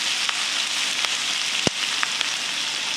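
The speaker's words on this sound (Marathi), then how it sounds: "कांदा असा व्यवस्थित लालसर करून घ्यायचा" Onion frying in hot tempering oil with turmeric, mustard seeds, cumin, asafoetida and curry leaves for kat vada gives a steady close sizzle, with a few faint clinks from stirring.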